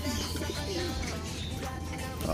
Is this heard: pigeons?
yes